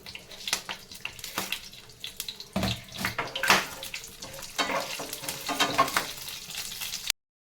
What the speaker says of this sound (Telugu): ఇప్పుడు మనము పోపు కోసం తాలింపులు వేసుకుంటున్నామండి